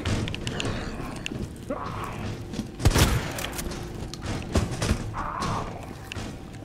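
Gunshots fired at a zombie in Resident Evil 2, heard as a few sharp, booming thuds spread across a busy game soundscape, with the loudest blast near the middle.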